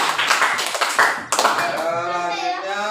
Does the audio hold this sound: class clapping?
yes